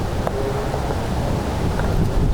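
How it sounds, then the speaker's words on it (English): Steady outdoor wind blows continuously across a microphone, a broadband rushing roar with low buffeting rumble, loud and unbroken throughout with no talk. "It's a bit breezy out here, so I'm probably gonna be wearing half of this"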